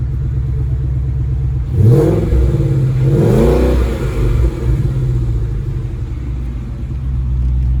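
A deep, rumbling Ford Mustang GT V8 engine idles steadily and is blipped twice in quick succession, each rev swelling loudly and falling back to a throaty burble.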